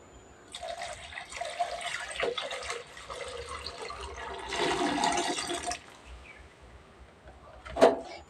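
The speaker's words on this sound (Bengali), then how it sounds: "এই দেখুন এবার পুরো দুধটা ঢেলে দেবো আমি।" Whole milk pours into a pot for sweet curd, a close liquid rush that swells mid-pour and then tapers off, ending with a brief clink.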